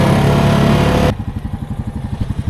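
A Honda Rubicon DCT ATV on 30-inch Aztex tires is driven off-road. A loud, close, steady engine roar drops abruptly to a lower, pulsing, rhythmic chug as the throttle eases off.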